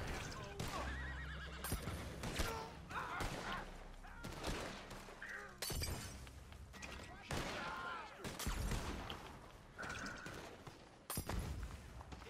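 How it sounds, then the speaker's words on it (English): A horse neighing and whinnying after being shot in Red Dead Redemption 2, mixed with hoofbeats, gunfire bursts and other game effects, while players talk over the chaotic scene. "You shot the fucking horse."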